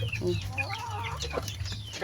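A hen clucks and chatters softly nearby in a string of short, warbling calls over a low steady hum.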